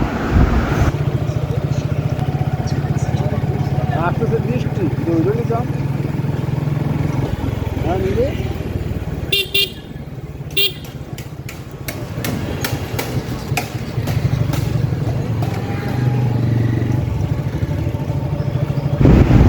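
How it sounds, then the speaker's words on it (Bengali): Motorcycle riding through Dhaka city streets, a steady low engine drone running throughout with road noise, wind buffeting and scattered clatter and traffic sounds. "বাইক তো চালাচ্ছি"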